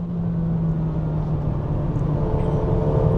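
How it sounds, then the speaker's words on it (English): Honda HR-V engine pulled hard to high revs, a steady droning hum with a strong low tone holding under faint road noise, loud and continuous without any talk. "Honda goes into high revs. Oh, it loves to be revved, this one."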